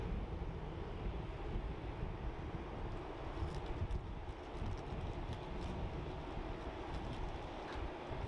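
An airplane takes off from runway 16 right at Sydney Airport on a cold night, a steady broadband engine roar that stays loud and continuous throughout.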